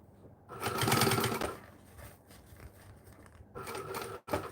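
A home sewing machine runs in a loud steady burst, then quieter intermittent stitching and a final short run, with music faintly underneath and no speech.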